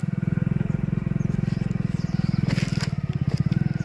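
A motorcycle engine runs steadily with a fast, even pulsing thrum while a rider carries a pipe on the bike, close and loud, with some scraping and clatter partway through.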